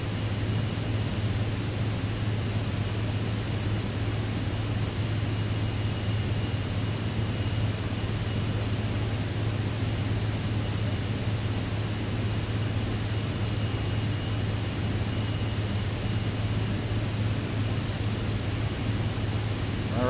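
Private jet engine noise in flight in the MSFS 2020 simulator during a night flight, a steady broadband hiss with a low hum running underneath, continuous and unchanging, with no voices.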